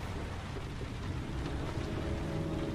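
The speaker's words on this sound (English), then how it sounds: "Can't breathe when it rains." Steady rain in the video game Heavy Rain hisses as a dense, even wash of drops with no pauses, close and fairly loud throughout.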